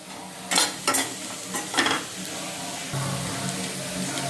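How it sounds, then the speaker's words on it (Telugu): Amaranth pieces frying with turmeric and chili in a pan, stirred in a few sharp scraping strokes over a steady close sizzle, with no talking. "మన టేస్ట్కి తగ్గ కారం వేసేసుకొని కాస్త ఫ్రై అవ్వనివ్వండి"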